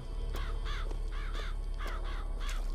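Crows caw loudly in repeated harsh bursts, summoned by a plasmid power in the video game Bioshock Infinite, the calls coming in quick successive pairs over a low steady hum.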